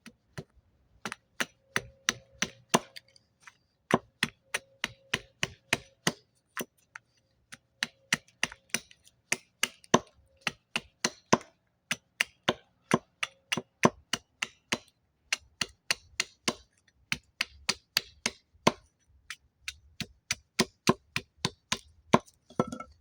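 Repeated sharp chopping strikes of a hatchet into wood while carving a small spoon, in quick bursts separated by short pauses, close and crisp, no talking.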